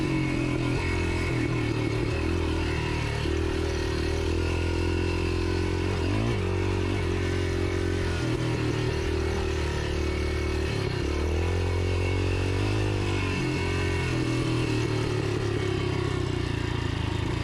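Yamaha XT 500 motorcycle ridden over a rutted, bumpy farm track, its engine a steady continuous rumble throughout, close and fairly loud, with some rattling and clatter as the bike bounces.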